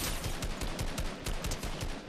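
Rapid gunfire in a video game, a dense burst of repeated shots in quick rhythm, loud and continuous throughout, with no talk over it.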